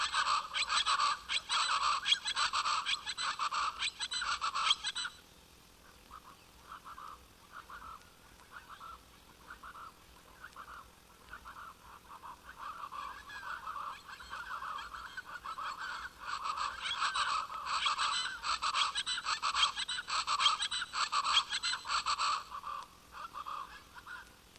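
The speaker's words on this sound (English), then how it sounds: "Chachalaca is a Mexican game bird." A pair of chachalacas, the Mexican game bird, call in duet with loud, raucous, rhythmic honking cries, in two long bouts separated by a quieter pause.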